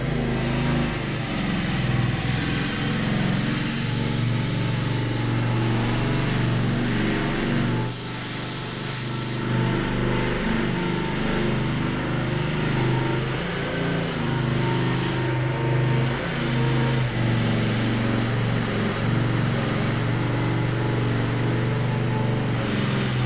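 An early 90s Mastercraft riding mower engine running steadily, a loud continuous low drone held throughout, with a brief spray-like hiss partway through.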